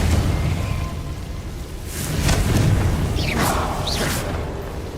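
The Confringo fire spell is cast in Hogwarts Legacy, giving a rumbling boom with whooshing fiery bursts over a steady low roar, and two sharp swishing flares near the end.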